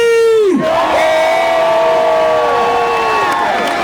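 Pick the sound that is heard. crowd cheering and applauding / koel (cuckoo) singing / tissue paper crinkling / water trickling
crowd cheering and applauding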